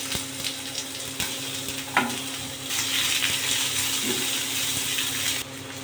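Chopped onion frying in hot oil with bay leaf, after potatoes were removed from the pan, giving a steady close sizzle with occasional stirring and scraping sounds.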